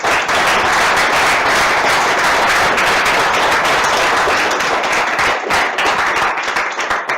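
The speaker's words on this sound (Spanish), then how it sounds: "un aplauso si hemos acabado la conferencia" Loud sustained applause from a conference audience at the end of a talk, close and continuous for the whole stretch with dense clapping and no pause.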